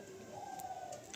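A Teddy pigeon, the King Teddy breed, gives a single soft, brief coo, faint and close in an otherwise quiet loft.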